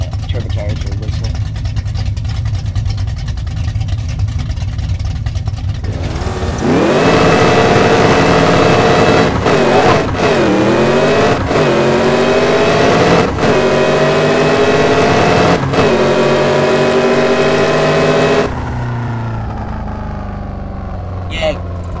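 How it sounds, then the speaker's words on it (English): Turbocharged drag car in the No Limit Drag Racing 2.0 video game revs hard, rising in pitch through several gear-like surges with a steady turbo whistle, loud and close, cutting off sharply near the end; a voice talks early on. "the turbocharger whistle"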